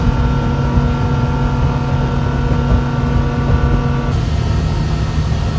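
Steady low engine drone of passing Coast Guard boats, a continuous rumbling hum with tonal whine, close and loud, shifting slightly partway through.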